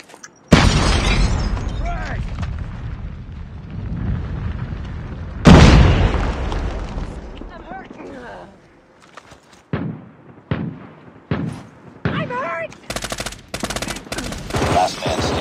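War video game combat with a bomb blast and gunfire, heavy booming explosions and bursts of shots interleaved with short stretches of in-game voice chatter and callouts.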